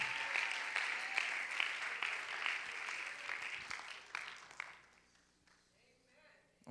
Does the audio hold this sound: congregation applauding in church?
yes